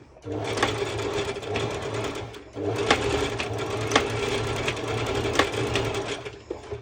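Sewing machine running a straight stitch across an elastic waistband layered on fabric for a ruffled mini skirt, two loud sustained bursts with a short pause between and a few sharp clicks of the mechanism.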